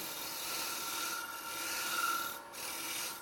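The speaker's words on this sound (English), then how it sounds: "That sound you hear, that little scream, is called chatter" A harsh, raspy scraping of a cutting tool on spinning wood on a lathe while turning a Christmas ornament, with a faint high-pitched squeal of chatter rising briefly in the middle.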